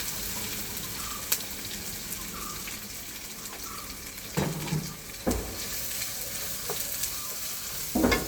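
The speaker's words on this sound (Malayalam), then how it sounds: "ആ വെണ്ടയ്ക്ക ഇങ്ങോട്ട് ഇടുകയാണ്." Cut okra sizzles in hot oil with mustard seeds and dried red chilli, a loud, constant frying hiss broken by sharp clinks and scrapes of a spoon stirring the pan.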